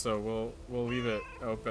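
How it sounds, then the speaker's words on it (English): Cats meowing loudly and close by, three drawn-out harmonic meows in quick succession, with a voice speaking briefly between them. "sorry about the cats"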